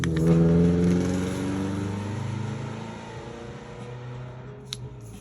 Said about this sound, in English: Yes, lots of noisy cars in my neighborhood.